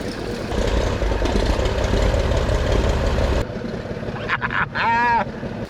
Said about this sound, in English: the left engine fired right up